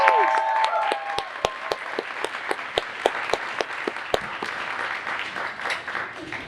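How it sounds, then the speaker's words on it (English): Audience applause at a Nerd Nite talk night in Austin welcoming a presenter to the stage, a dense wash of clapping with a few sharp individual claps standing out, fairly close and continuous throughout. "One more big round of applause"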